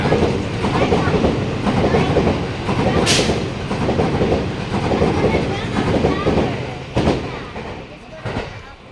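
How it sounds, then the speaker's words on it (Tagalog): A train passing close by with a continuous loud rumble and clatter of wagons, a few sharp clanks along the way, with people talking faintly in the background at Arashiyama, Japan. "ito na yung train."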